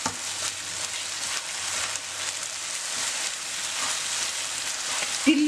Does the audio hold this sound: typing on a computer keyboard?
no